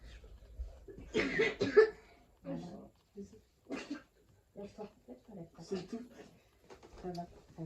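A child coughs after choking on candy, a few harsh near coughs early on, followed by soft halting sounds while an adult speaks gently nearby.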